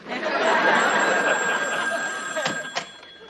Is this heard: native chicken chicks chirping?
no